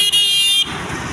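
Busy road traffic with car horns sounding: a loud sustained horn blast that cuts off partway, followed by general traffic noise.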